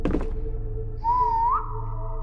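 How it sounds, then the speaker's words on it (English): A rising tonal whistle from an IKEA-themed video game sounds for about half a second over a steady low game hum, clear and fairly close. "I thought the whistle was actually you and not the game."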